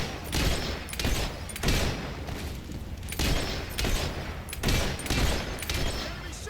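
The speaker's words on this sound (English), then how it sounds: "Enemy shooting at us!" Enemy gunfire in the video game Fable 3, a dense fusillade of repeated shots arriving in bursts roughly every second, loud and sustained.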